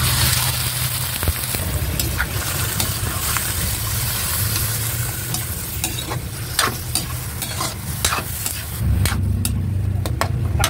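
Squid frying in a pan with garlic and onion for adobong pusit, a steady close sizzle and stirring clatter running throughout with no talk.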